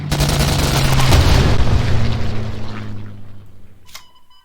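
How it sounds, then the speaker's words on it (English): An artillery strike explodes in the KARDS card game, a loud broadband boom that swells for about a second and then decays over several seconds, with a faint chime-like effect near the end. "Let's take it with the artillery."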